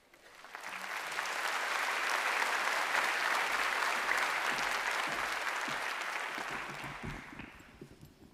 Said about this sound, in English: Great, lots of clapping to come.